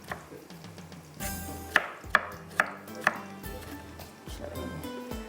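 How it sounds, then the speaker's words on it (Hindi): Four sharp knife chops on a cutting board in quick succession as tomatoes are finely chopped, close and crisp, over a low background hum. "इसको बारीक बारीक चॉप करते हैं यहाँ पर"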